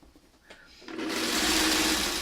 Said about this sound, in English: you let your sewing machine and your feed dogs do the work of easing them together